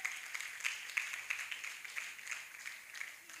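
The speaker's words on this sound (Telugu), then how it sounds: "అందరూ చప్పట్లు కొట్టండి" An audience at a church youth and children's retreat claps together in a steady burst of applause, faint and somewhat distant, with the claps loosely following a rhythm and no voices over them.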